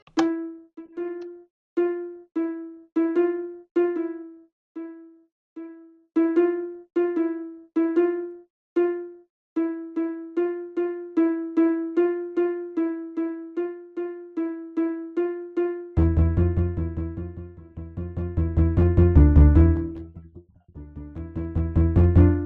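A plinking Minecraft note-block melody, used as a doorbell, plays close and clear, repeating a short rising two-note pattern that speeds up, then deeper bass notes join in.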